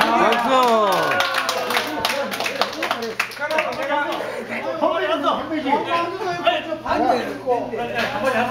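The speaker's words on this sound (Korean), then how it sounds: "박수" A group at a hiking club meal gathering claps briefly, with a few sharp claps mixed into lively overlapping chatter and chuckling voices that dominate throughout.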